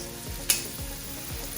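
Shrimp for a creamy garlic Tuscan dish sizzle steadily in a hot pan, a close, even frying hiss broken by one sharp clatter as they are flipped.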